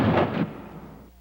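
A sudden blast from a laboratory chemical explosion, one sharp burst with a broad roar that decays over about a second into a fading rumble, loud and alone with no voices.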